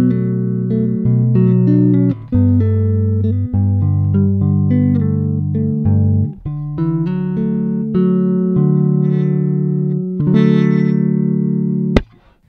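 Chords strummed on a Schecter Diamond J Plus jazz bass with pickups in parallel position, a steady run of sustained, full harmonic chords with brief gaps between changes, played alone and close up.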